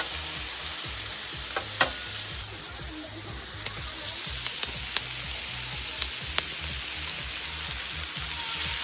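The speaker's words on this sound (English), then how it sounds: "right here, just going on the grill, we have New York strip steak cut up with a red pepper" Cut-up New York strip steak and red pepper frying on a grill, a steady close hiss with scattered sharp pops and crackles throughout, no voices.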